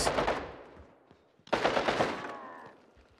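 Bursts of automatic gunfire from Call of Duty Modern Warfare II, one rattling volley fading out, then after a short gap a second loud burst that decays into echo and tail.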